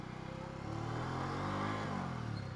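A modified motorcycle engine thumps and revs nearby, a low throbbing idle that rises into a louder rev midway, then settles, with no speech.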